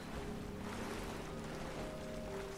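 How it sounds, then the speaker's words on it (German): In Rise of the Tomb Raider, swimming through contaminated mine water gives a steady wash of sloshing, surf-like water noise, even and continuous, with faint tonal game ambience beneath. "Also, wir schwimmen in uranverseuchtem Wasser herum."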